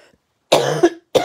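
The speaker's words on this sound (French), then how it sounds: "J'ai encore ma toux." A few harsh, chesty coughs close to the mic, one burst running into the next, then a short final cough after a brief pause.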